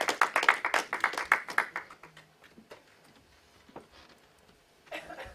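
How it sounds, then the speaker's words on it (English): A small audience at a hypnosis demonstration claps for a returning volunteer, a quick run of close hand claps that thins out into scattered taps before a brief final flurry. "Give him a round of applause as he goes back to the audience"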